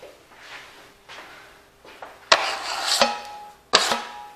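A drywall knife glides lightly over joint compound on an inside corner, giving soft scraping strokes that build into several louder, sharp-edged swipes, close and without talk.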